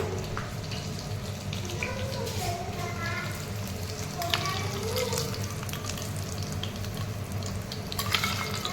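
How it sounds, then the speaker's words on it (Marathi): Hot tempering of oil with green chillies poured over dhokla, a dense close sizzle and crackle that spreads and hisses steadily throughout, with no talking. "चला आता ही फोडणी आपण ढोकळ्यावर टाकून घेऊया"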